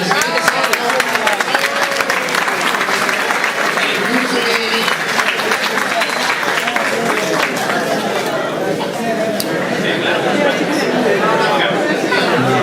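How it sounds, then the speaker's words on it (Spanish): Steady, crowded applause fills a hall at the Conexion Cultural 2010 event, sustained for over twelve seconds with lively chatter and voices mixed in throughout. "Un aplauso."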